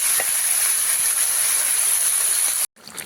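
Water poured into a pan of cooked-down drumstick curry sizzles with a loud, steady hiss that holds evenly for over two seconds and then cuts off abruptly.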